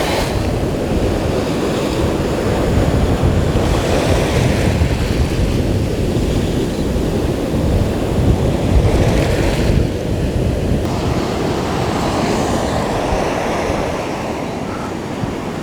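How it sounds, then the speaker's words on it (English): Ocean surf rolling onto a beach on a morning shoreline, a steady loud roar of breaking waves with wind buffeting the microphone throughout, swelling slightly in places and easing toward the end, with no talk. "we got incoming surf"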